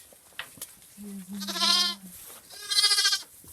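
Goat kids and lambs on a ranch bleating before bottle feeding, two close, loud wavering bleats in quick succession over faint background noise.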